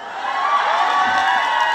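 Festival crowd at an outdoor grape festival concert in Yeongdong, cheering, shouting and whooping continuously with some applause, a loud, dense wash of many voices with no speech.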